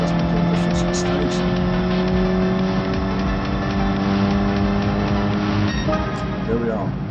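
Racing car engine in Gran Turismo Sport, a steady loud drone with sustained harmonic tones and a shift or rev change near the end, continuous throughout.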